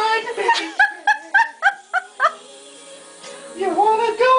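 Dog whimpering with a quick series of sharp high yips in the middle, then softer whining, close and fairly loud, with a person's voice nearby.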